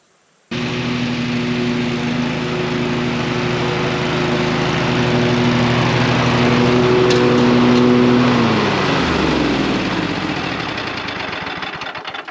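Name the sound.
lawn mower engine running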